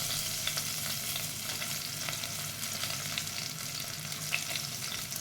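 Ginger and cumin sizzle and crackle in hot oil in a pan for jowar khichdi, a steady close frying hiss with small pops and occasional stirring.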